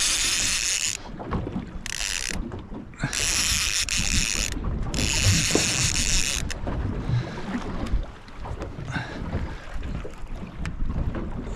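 A baitrunner fishing reel clicks rapidly as a fish pulls line, loud ratcheting bursts in several runs with short pauses, close to the microphone over wind and outdoor rumble.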